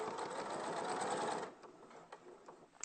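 A sewing machine runs steadily, stitching a seam for about a second and a half, then stops, leaving a few faint clicks and handling sounds.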